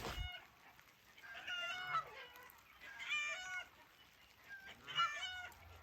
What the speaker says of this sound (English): I don't think the chickens liked that we had 2 goose fly in. They're being pretty vocal about it.